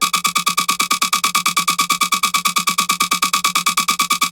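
Sick Bass free preset bass from a hybrid trap remix, a bright, buzzing synth bass pulsing in a fast, even stream of identical notes, loud and alone.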